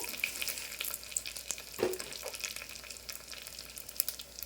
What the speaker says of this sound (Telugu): ఇప్పుడు ఎండుమిర్చి వేసేద్దాము.